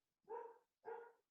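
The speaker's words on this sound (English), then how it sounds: "you hear a dog barking" A dog gives two separate barks about half a second apart, faint and distant, with quiet between them.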